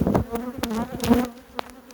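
Honeybees hum around an open hive during a spring inspection of brood frames, a steady close drone broken by louder passes and buzzes of individual bees near the microphone.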